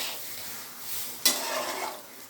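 Meat being stirred in a cooking pot over the heat, a soft steady sizzle with a sharp utensil scrape against the pot midway, nearby and fairly quiet.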